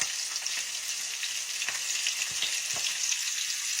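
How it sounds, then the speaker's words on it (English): Steady, bright sizzling of onion rings frying in hot oil, with crackles and pops throughout, close and continuous. "somebody's frying fish and you can be dropping in onion rings"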